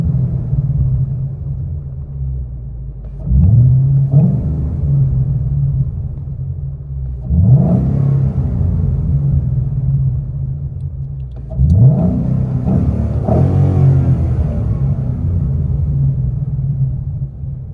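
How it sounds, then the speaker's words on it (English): A 2014 Mustang GT engine heard from inside the cabin: a steady low idle rumble with three distinct revs that rise and fall about four seconds apart. "Here are some interior revs."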